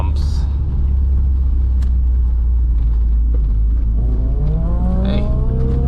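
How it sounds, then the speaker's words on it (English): A heavy, continuous engine rumble and road drone fill the cabin of a car driving a mountain pass, either a 1.8T Mk2 Golf or a K-swapped Honda Jazz, with scattered clicks and knocks and a rising rev near the end. "Excuse all the rattles and the knocks and the bumps."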